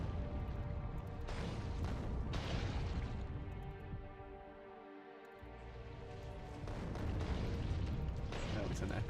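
Turret artillery fire in Factorio: Space Exploration booms in repeated heavy bursts over a dense rumbling game backdrop, loud at the start and end with a quieter lull in the middle.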